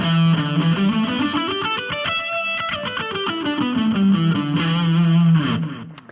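Distorted electric guitar plays a pentatonic scale run, notes stepping steadily up and then back down, ending on a held low note.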